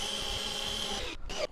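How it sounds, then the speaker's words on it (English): A power drill driving a screw through timber into steel, a steady whining hum that runs unbroken for over a second before cutting out briefly and returning at close range, with no voices. "as I'm drilling the steel, there's no resistance on the screw"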